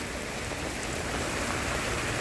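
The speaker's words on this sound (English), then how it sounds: "it is in the middle of raining" Steady, heavy rain falling outside a house, a dense unbroken hiss of drops that holds at a constant loud level throughout with no voices.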